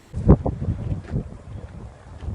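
Gusty wind buffets the microphone on the summit of Tel Megiddo in Israel, in low rumbling bursts, loudest near the start, then a steady blustery roar continues.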